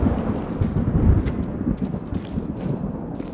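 Thunder rolls and rumbles with rain during a lightning storm in the horror game Amnesia: Rebirth, a loud continuous low rumble with crackling bursts and no voices.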